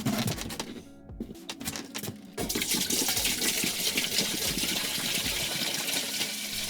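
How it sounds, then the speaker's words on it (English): Spring water splashes and runs steadily while glass jars are rinsed for canning blueberry jam, with a choppy start giving way to a continuous, close rush of water. "This is also spring water that I'm rinsing the jars with."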